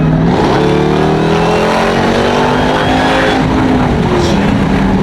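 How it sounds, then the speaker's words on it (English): Dodge Durango Hellcat fitted with an AWE Touring exhaust accelerates hard, its loud, close exhaust roar climbing steadily in pitch as the engine revs without a break. "you can hear the exhaust in the back as well"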